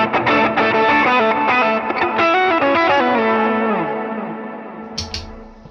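Electric guitar played through delay and reverb effects in a dual-amp rig, a sequence of clean plucked notes with repeating echoes and a long, fading reverb tail, loud and alone.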